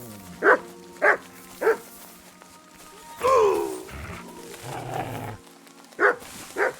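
A dog barks in Kingdom Come: Deliverance 2, three sharp barks spaced about half a second apart, then a clutter of game noise and a growl-like stretch, then two more barks near the end.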